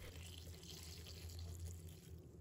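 Water sloshes in a basin as red dates and goji berries are rinsed after being rubbed with flour, a faint, steady splashing and trickling close by.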